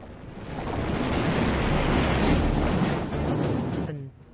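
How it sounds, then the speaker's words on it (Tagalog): Dense, continuous rumbling roar of heavy gunfire and distant artillery during the 1944 D-Day landings, loud and unbroken before tapering off at the end. "Ang patuloy na pag-iingay ng mga baril ay tumatagal ng hindi bababa sa isang oras."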